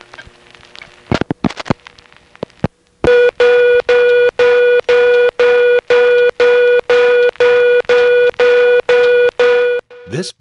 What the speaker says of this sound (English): This beeping tone is something I've heard before